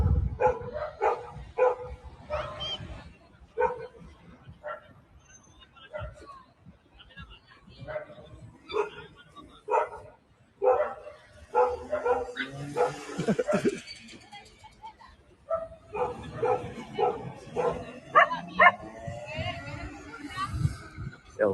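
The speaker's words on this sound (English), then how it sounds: "Here are the dogs barking." Dogs barking in Spain, repeated sharp barks and yips at moderate distance, coming in irregular bursts with someone talking over and between them.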